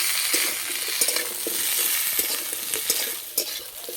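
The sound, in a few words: vegetables and raw banana frying in a pan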